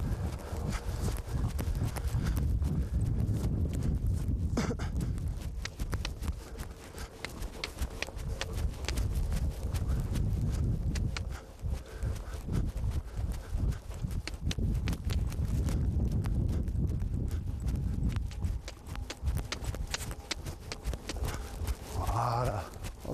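An eight-year-old mare's hooves beat a steady, rhythmic trot on an arena surface during dressage work, loud and continuous throughout with brief uneven pauses.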